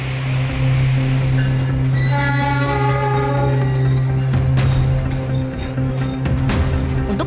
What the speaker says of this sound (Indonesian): Seperti ribuan komuter lainnya, Tanya harus bergabung dengan padatnya penumpang KRL yang menuju Jakarta pada jam sibuk di pagi hari.